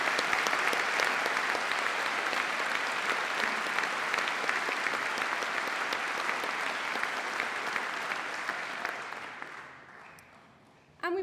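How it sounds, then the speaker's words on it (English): A graduation ceremony audience applauds the musicians with sustained, full-room clapping that holds steady, then tapers away and stops near the end, followed by a brief sharp sound. "a warm round of applause as they have created a special atmosphere for this unique event."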